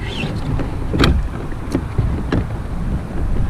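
A Lightning Kayaks Kick 106 kayak is paddled casually, with a few soft splashing strokes of the paddle in the water over low, steady background rumble.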